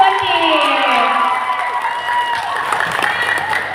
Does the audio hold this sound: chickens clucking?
no